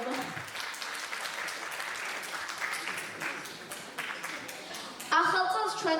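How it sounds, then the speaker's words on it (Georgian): Audience at a New Year concert applauds in a hall, a continuous crowd clapping that holds steady, then music begins to rise near the end beneath it. "აპლოდისმენტები არ დავიშუროთ"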